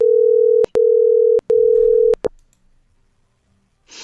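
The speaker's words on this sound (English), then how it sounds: "It sure sounds like your computer, Greg." A loud steady telephone tone sounds in long bursts with brief gaps, cutting off after about two seconds and leaving near silence, with a faint rustle at the end.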